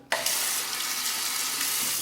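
Cold water runs from a tap in a steady, close hiss after a sudden start, with an alum shave block held under the stream.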